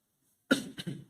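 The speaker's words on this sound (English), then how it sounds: "I'm just coughing" A single close, harsh cough in two quick bursts after silence, loud and dry, from a person teaching a grammar lesson.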